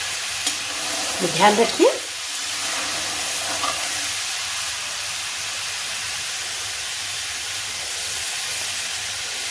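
Chana dal fries in oil as it is stirred for dal moth, giving a steady, even hiss throughout, with a brief spoken remark near the start.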